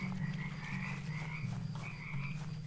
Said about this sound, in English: The frog noises are good in this game so far.